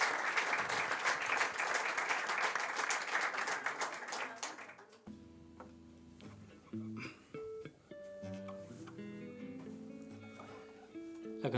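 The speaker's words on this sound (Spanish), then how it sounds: "aplauso para Magdalena." A concert audience at a live show applauds for Magdalena, with dense clapping for about five seconds that then stops abruptly and gives way to quiet instrumental notes.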